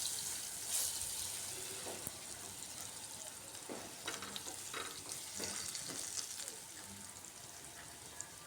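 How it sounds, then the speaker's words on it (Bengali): Potatoes frying in a pan with salt and turmeric, a steady close sizzle with occasional scraping stirs and light clinks, no talking. "আলুগুলো এদিকে ভাজা ভাজা হতে থাক"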